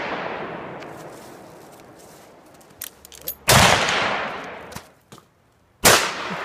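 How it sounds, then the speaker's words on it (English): A hunting gun fires outdoors, with two very loud sharp blasts a few seconds apart, each followed by a long decaying echo, and smaller knocks before them. "Jesus Christ, that's too loud, that gun."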